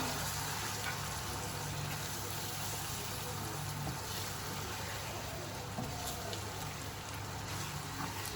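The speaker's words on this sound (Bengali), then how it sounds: "মশলাটা আমার কষানো শেষ পর্যায়ে দেখো সুন্দর একটা কালার চলে আসছে" Spices frying in a pan for a spicy fish curry, a steady, close hiss of sizzling oil that runs evenly throughout with no talking.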